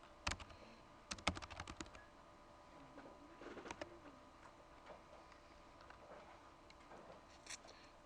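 Keys clatter on a computer keyboard in short scattered bursts, close and fairly quiet against a faint room background with no voices.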